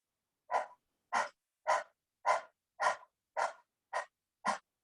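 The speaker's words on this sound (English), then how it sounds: "so that's the dog breathing" Dog breathing exercise: eight quick, evenly spaced breaths pushed through the mouth by a person, like a panting dog, each sharp puff separated by brief silence.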